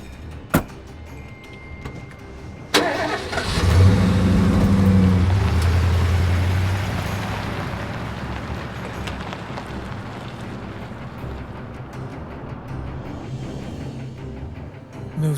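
A car door shuts, then an engine starts and revs with a steady low drone. The car pulls away and the engine noise fades into a continuous rumble, with no talk.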